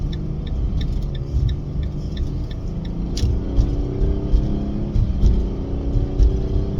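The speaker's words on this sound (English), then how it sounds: "Commercial break of me driving through intersections and focusing." A car drives through intersections: a steady, close, low engine rumble with slight swells of acceleration, plus faint regular ticking above it, and no voices.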